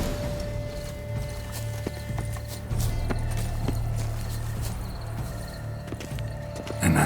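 Steady clip-clop of hooves at a walking pace over a constant low background hum, with faint clanks, from a horse in The Witcher 3: Blood and Wine.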